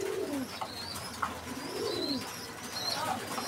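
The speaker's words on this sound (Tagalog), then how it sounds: "Kaya check natin yung una natin ibon, si Bernasa." A racing pigeon coos in soft, low, repeated rolling calls from close by, set against a steady noisy background with faint chirps.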